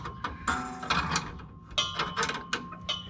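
On a 1946 Chevrolet truck, a threaded brake rod is wound back in by hand, making a run of small metallic clicks and ratcheting ticks in quick irregular bursts, close and fairly quiet.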